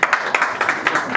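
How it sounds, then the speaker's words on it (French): An audience at a women's association celebration for Capricorns claps for Madame Lusamba, a brief burst of steady, fairly loud group clapping with regular rhythmic beats. "Nous allons applaudir Madame Lusamba"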